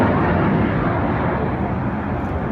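A Red Arrows display jet roars past at a seaside air festival, a loud, steady broadband rush of engine noise that fills the whole moment without pause.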